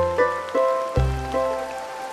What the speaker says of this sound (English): this is the first time it was raining here